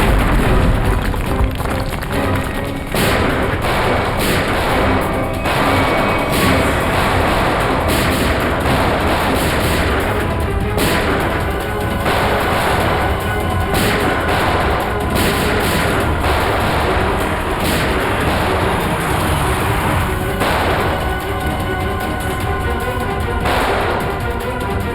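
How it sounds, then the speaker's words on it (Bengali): Explosions and blasts in a TV crime drama, heard as loud, continuous booming and gunfire-like cracks in a dense, sustained barrage with no voices above it. "ব্লাস্ট আরম্ভ হয়ে গেছে"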